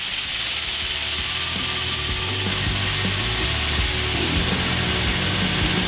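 Homemade hydraulic tube bender pumped through a test stroke, giving a steady mechanical clicking and ratcheting over a constant low hum, close and fairly loud throughout with no talking.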